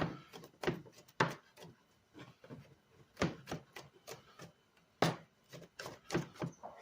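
A knife dices squash on a cutting board in a home kitchen, a string of close, sharp knocks in an uneven rhythm with a few quick clusters.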